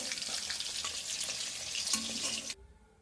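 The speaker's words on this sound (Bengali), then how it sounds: "দই কাতলা বানানোর জন্য আমি মাছটাকে ভেজে নিলাম।" Pieces of katla fish frying in white oil, a close, even crackling sizzle that cuts off abruptly near the end.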